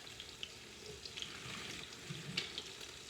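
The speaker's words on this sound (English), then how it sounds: "let that saute for another 10 minutes" Salmon croquette meal ingredients sautéing in a pan, a soft, low sizzle heard close with faint clinks and light stirring scrapes, no voices.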